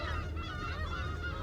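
Seabirds at the beach squawk and honk loudly and continuously, crowding close while begging for shrimp crackers, their harsh overlapping calls filling a short burst with no talk.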